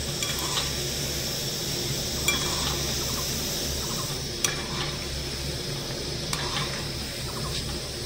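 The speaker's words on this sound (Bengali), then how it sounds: "এবারে আমি নিকুতি মিষ্টিগুলো ভেজে নেব।" Nikuti sweets, semolina-based Bengali sweets, frying in oil at medium heat, giving a steady soft sizzle and bubbling with occasional faint clinks of a utensil against the pan, with no talking.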